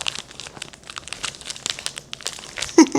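Close-up crinkling and rustling of a plastic cookie package being handled, with irregular crackles and a brief louder crunch near the end.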